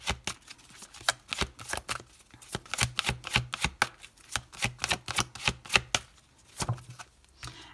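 Oracle cards shuffled by hand in a steady run of close, crisp riffling slaps, alone with no talking.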